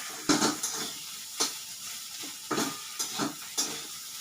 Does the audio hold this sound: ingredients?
yes